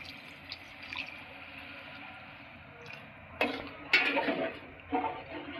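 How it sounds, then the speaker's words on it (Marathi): Water poured into a pot of prawn biryani rice, heard as soft splashing and trickling bursts that rise in the second half, close and moderately loud over faint background noise. "आता आपण त्याच्यात पाणी टाकून घेऊ."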